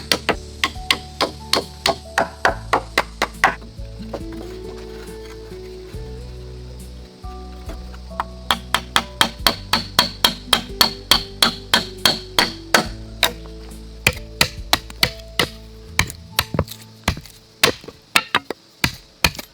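Steady hand hammering or chiselling into a wooden frame to carve small sockets, with dozens of sharp, evenly spaced strikes that pause briefly and then resume in a quick rhythm, close and loud with no talk.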